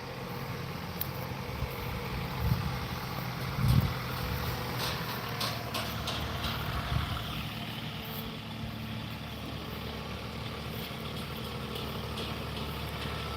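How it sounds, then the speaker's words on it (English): A John Deere tractor with an enclosed cab idles outdoors in Texas while moving pine tree debris, a steady low engine rumble with a few soft bumps, heard alone throughout. "It's my husband on the tractor."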